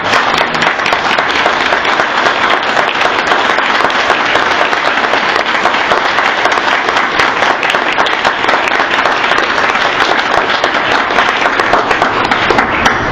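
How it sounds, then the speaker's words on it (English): Loud, sustained applause from a large audience at an awards ceremony, dense steady clapping that fills the whole stretch without letup, with a few faint voices mixed into the crowd. "try to clap loud enough that he can hear us back in New York"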